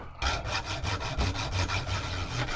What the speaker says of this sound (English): I may do it with a hacksaw